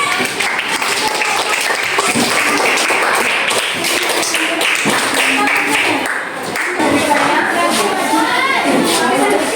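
A classroom of students applauds group 2, a dense, steady patter of clapping that runs for several seconds with voices mixed in.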